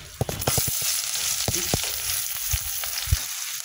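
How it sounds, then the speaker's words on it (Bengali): Onions dropped into hot oil for a fish curry with mixed vegetables, a bright frying crackle punctuated by several sharp clatters and knocks of utensil against pan. "পেঁয়াজ দেওয়া হচ্ছে"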